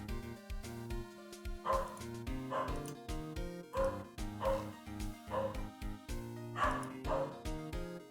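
A dog barks in a steady series of yips and bow-wows, several barks evenly spaced, moderately close, against a faint background.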